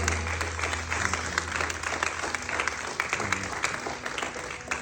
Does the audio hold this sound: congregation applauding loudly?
yes